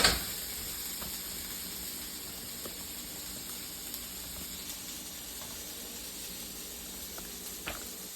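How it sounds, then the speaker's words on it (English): Potatoes and onions browning in a pan for a curry, giving a faint, steady hiss and sizzle that runs throughout with a few small pops and no voices. "just get these potatoes and onions and stuff just, browned up."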